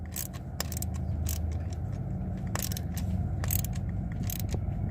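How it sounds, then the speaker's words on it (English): A ratchet tool tightens a part during a Pertronix Ignitor ignition install, rapid ratcheting clicks in quick bursts over a steady low mechanical hum. "you want to get your tool and tighten this side"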